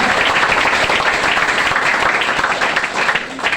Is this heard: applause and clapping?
yes